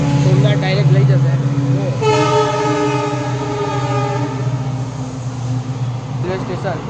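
A Vande Bharat train passes close by, its horn sounding a long, sustained blast over the rumble of the carriages, with people talking nearby.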